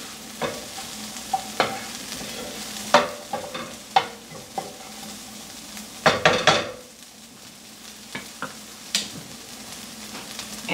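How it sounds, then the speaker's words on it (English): Onions sizzling in a pot for jollof rice, a steady close frying hiss broken by repeated sharp clinks and scrapes of a utensil stirring against the pot, with no talking. "So now we have our sizzle going on that we were looking for."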